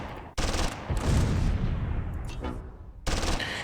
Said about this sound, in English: Got that MG firing.